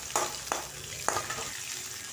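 Garlic, green chillies and sliced onion sizzle in a pan, a steady close frying hiss broken by three distinct clatters of stirring or ingredients dropping in.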